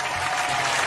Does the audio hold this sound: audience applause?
yes